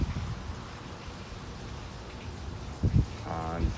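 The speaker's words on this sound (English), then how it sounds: "Very windy right now, raining." Rain falls on a windy Bergen Avenue street in Kearny, New Jersey, as a steady broadband wash of drops and gusts, with a brief louder burst near the end where a voice briefly sounds.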